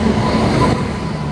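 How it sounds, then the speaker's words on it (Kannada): Indian Railways train arriving at a station, a loud continuous rumble of rolling wagons close by, heard briefly with no talk. "ನಮ್ಮ ಟ್ರೈನ್ ಬಂತು"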